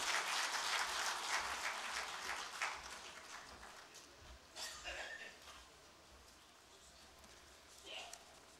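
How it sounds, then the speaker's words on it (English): Conference audience at an inaugural ceremony gives a round of applause that starts full and gradually thins out, fading to scattered claps over several seconds, fairly distant. "Please welcome him with a round of applause"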